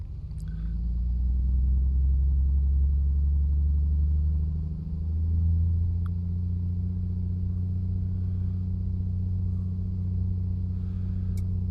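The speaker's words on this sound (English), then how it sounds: "let's go, let's rev it up." An A2A Comanche 250 piston engine runs up on the runway in Microsoft Flight Simulator 2020, a steady deep droning rumble that dips briefly then settles into a constant loud hum, with no voices.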